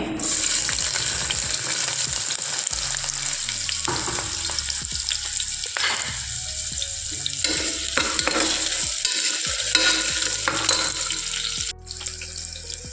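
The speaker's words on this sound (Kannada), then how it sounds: "ಎರಡು ಈರುಳ್ಳಿ ಈ ಥರ ಸ್ಲೈಸ್ ಥರ ಕಟ್ ಮಾಡಿ ಹಾಕ್ಕೊಳ್ತಾ ಇದ್ದೀನಿ" Sliced onions sizzle in hot oil with popped mustard seeds, the pan loud and close as a spoon scrapes and stirs in quick repeated strokes over the constant frying hiss.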